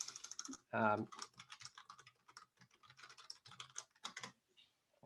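Quiet, close typing on a computer keyboard into a chat window, a run of irregular light key taps with a brief louder noise near the start.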